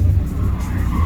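A BMW E36 compact drifting at a Doncaster racecourse motor show, its tires squealing loudly and continuously under a droning engine, close and sustained with no talk.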